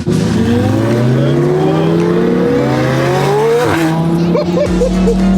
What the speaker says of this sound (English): Let me catch up so I can get some rollers of this Senna GTR